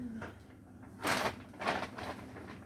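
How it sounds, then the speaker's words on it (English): Wind rattles a door, giving three short clattering bursts a little apart, moderately loud against a quiet room, with no voices. "Oh, it's the wind."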